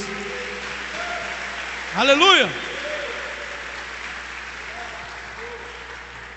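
A church congregation at a seminar claps in a steady, even wash of applause, broken midway by one loud shouted exclamation from a voice nearby.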